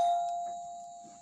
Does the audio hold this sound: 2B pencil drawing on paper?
no